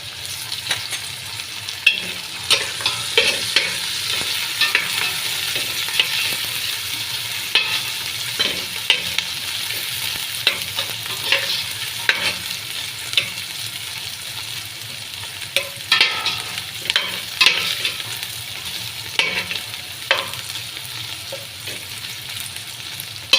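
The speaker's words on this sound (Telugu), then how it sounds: "వేయించుకోవాలండి పచ్చివాసన పోయేంత వరకు" Mutton fries with dried lemon in a pan, giving a constant close sizzle broken by frequent scraping and clattering stir strokes, with no voices over it.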